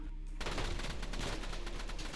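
Rapid automatic gunfire from the fastest gun in the video game Jailbird, a dense, continuous burst of shots that starts abruptly and runs steadily throughout, loud and close with no talking.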